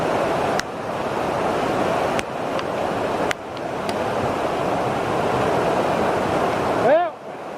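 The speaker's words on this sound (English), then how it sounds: "So this is like the top of the waterfall when we was just at the bottom looking down. It's running really fast." Fast-running waterfall at Fall Creek Falls, heard from the top of the falls: a steady, loud broadband rush of water with wind buffeting the microphone, a few sharp knocks and a brief squeal near the end.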